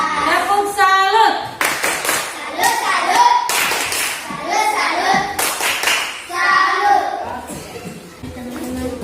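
Schoolchildren in a classroom perform a chanted clapping routine, voices singing together with bursts of synchronized claps at intervals, loud and close.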